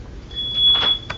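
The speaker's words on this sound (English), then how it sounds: "Just listening to a fire alarm going on." A fire alarm gives a thin, high-pitched electronic tone that holds steady for about a second. It sounds fairly faint and distant over a low background hum, with no speech.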